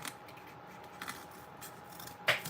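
Scissors trimming cardboard on a gift basket, a few quiet snips close by with one sharper cut near the end, faint and alone.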